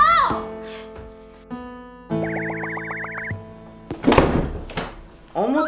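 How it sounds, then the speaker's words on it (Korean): A door slammed shut in a comedic home skit: a sharp, heavy thud that stands out among electronic sound effects and tones, with a voice heard nearby. "아주 저렇게 쾅 닫고 그냥 들어가 버리네"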